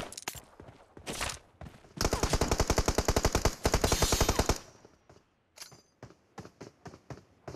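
Rapid automatic gunfire from a video game rattles in several bursts, a long sustained stretch of fast, evenly spaced shots in the middle, then scattered single shots and short volleys toward the end, loud and with no voices over it.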